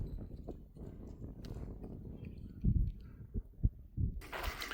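Horse hooves clip-clop faintly on a trail up the Pacaya volcano, as a few irregular soft thuds rise from a low, rumbling background.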